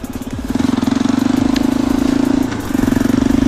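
A Yamaha Raptor 350 quad idles and runs steadily up close, its engine thrumming with a loud, even pulse that dips briefly before picking back up.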